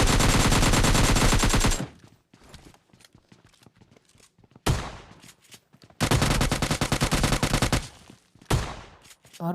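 Long bursts of automatic AKM rifle fire in the mobile shooter PUBG Mobile Lite, rapid and loud, separated by a quieter stretch with shorter bursts and distant shots.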